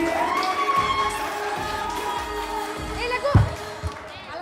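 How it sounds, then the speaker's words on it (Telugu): A lively crowd at a get-together cheers and shouts, with children's voices and scattered clapping under ongoing chatter, and a sharp thump near the end. "క్లాప్స్ కొట్టాలి."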